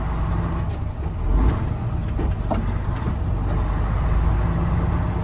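A car engine on a driving road test, downshifting through the gears, makes a steady low rumble that swells briefly, with road noise underneath. It is close and continuous, and nobody speaks.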